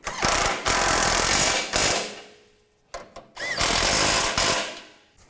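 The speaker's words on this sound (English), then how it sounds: "Put the nuts on. And tighten those down." A power tool whirs in several loud, close bursts, some long and some short, with brief pauses between them, as nuts are tightened down on a power steering cooler on a 2007-16 GMC Acadia.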